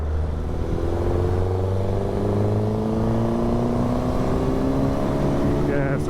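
Honda Hornet SP and Suzuki GSX-S1000 litre naked motorcycles accelerate hard in top gear, a steady, loud engine drone with slowly climbing pitch throughout, heard close up as if from on board.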